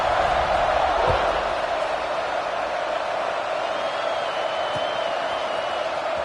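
A stadium crowd at a Texas vs Clemson football game roars steadily just before a kickoff, a dense sustained wash of cheering and noise that never lets up, with no clear speech heard.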